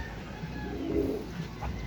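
Racing pigeons at a training loft in Tarlac City give low, soft coos that swell briefly near the middle over a steady background hum.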